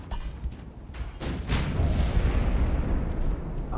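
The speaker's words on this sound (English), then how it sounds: "10-inch hit from the battleship." A battleship's 10-inch shell strikes in the naval game Ultimate Admiral: Dreadnoughts, a few sharp cracks followed by a loud, sustained booming rumble, heard alone without talk.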